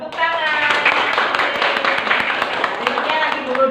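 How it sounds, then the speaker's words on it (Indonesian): Applause from a classroom of vocational high school students rewarding a discussion group, a dense spell of clapping close by that runs through the whole moment, with voices talking over it. "Tepuk tangan."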